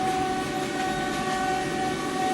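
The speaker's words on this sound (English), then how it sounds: "here I am on the 18-hour train to Bucharest" Steady rumble of an overnight passenger train to Bucharest heard from inside the carriage, with a sustained horn tone running through the whole stretch at constant volume.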